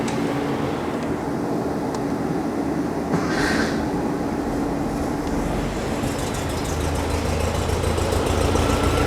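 The air-cooled VW engine in a Porsche 356 Speedster kit car starts and settles into a loud, steady, rumbling idle close by, with a brief rise partway through.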